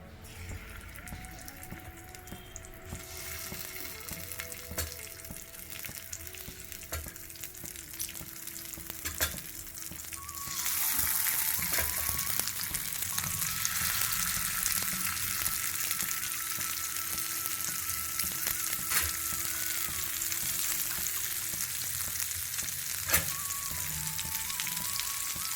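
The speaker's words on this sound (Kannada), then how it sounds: "ಸಣ್ಣ ಉರಿಯಲ್ಲಿ ಫ್ರೈ ಮಾಡಿಕೊಳ್ಳಿ." Jackfruit pieces fry on a tawa over a low flame, giving a steady, close sizzle that grows noticeably louder and fuller partway through and then holds, with no voices.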